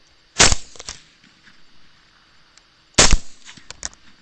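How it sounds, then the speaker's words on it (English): Two sharp rifle shots crack during a hog hunt, spaced a few seconds apart and loud, each followed by a short echo fading into a quiet outdoor background. "2 quick shots, too quick to hit"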